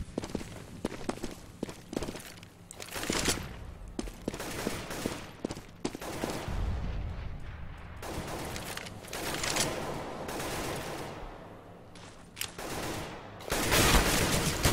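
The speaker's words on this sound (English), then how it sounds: "just fires through it, just in case they can land some shots" Rifle fire is sprayed through a smoke grenade on de_inferno in professional CS:GO, with rapid sharp gunshot bursts, footsteps and movement between volleys, and fairly loud shooting near the end.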